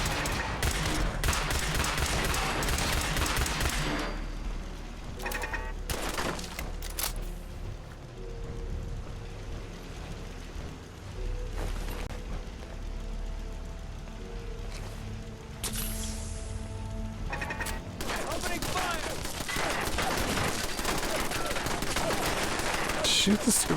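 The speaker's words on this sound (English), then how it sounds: "Shoot the stupid thing already" Sustained bursts of gunfire in Fallout 4, loud rapid volleys at the start and again near the end, with a quieter gap between them carrying scattered shots and tonal game sounds.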